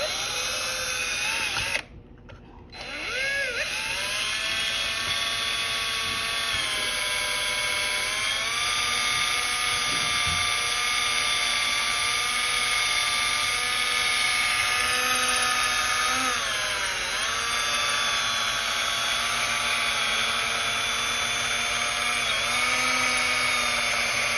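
A power drill whines steadily and loudly for a long stretch, enlarging a hole in a tumbler, pitch wavering slightly as it grinds, with a short break near the start.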